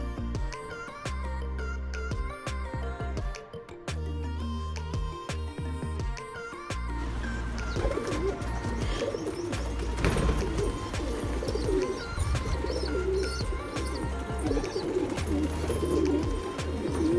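A flock of pigeons cooing close by, soft repeated coos over a busy background that grows louder and fuller midway through, with no talking.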